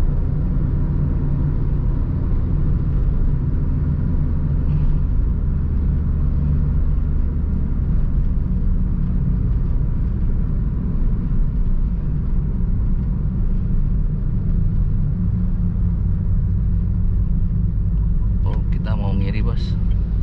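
A car engine rumbles steadily at a red light as the driver eases the clutch halfway out to pull away, a low continuous drone heard from inside the cabin, with a short sharp noise near the end.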